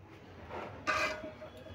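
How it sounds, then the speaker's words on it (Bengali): A knife cuts into a young, tender bottle gourd in a kitchen, giving a brief rasping scrape followed by a sharper crisp slice, close and moderately loud with no talking. "এবার আমি লাউটাকে কাটছি।"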